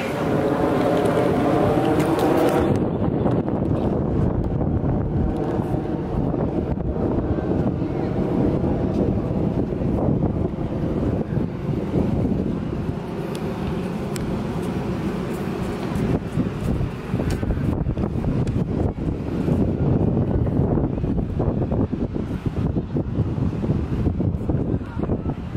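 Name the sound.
wind blowing at the beach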